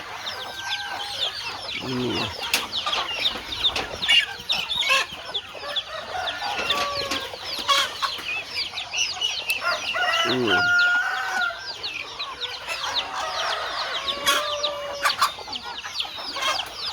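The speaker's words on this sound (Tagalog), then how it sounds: "Ano, manok, pato, gansa." Chickens clucking and calling repeatedly across the recording, with ducks and geese chattering among them, fairly close and busy.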